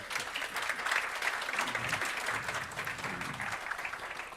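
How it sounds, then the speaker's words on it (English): Audience applause at the European Viable Cities Day 2022 conference, a steady, dense round of clapping from a crowd that holds at an even level throughout without any talking over it. "Big applause for them."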